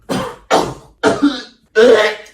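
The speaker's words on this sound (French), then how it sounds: "J'arrête pas de tousser." Four harsh coughs come in quick succession, each a short, loud burst with brief pauses between, the last one longer and heavier.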